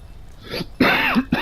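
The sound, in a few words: throat clearing and coughing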